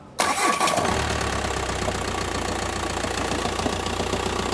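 A VW T5 van engine with a knocking fault cranks and catches almost at once, then runs at a loud, steady idle with a continuous low rumble and rattling overtones, close by and with no talk.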